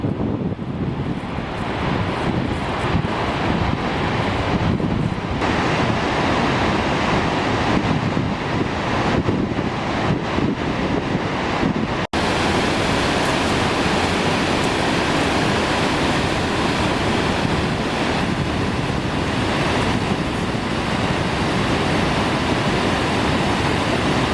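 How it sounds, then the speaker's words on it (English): A constant, heavy roar of Gullfoss waterfall in Iceland fills the whole clip, thick broadband rumble with wind buffeting the microphone, no voices. "here's the Gullfoss waterfall"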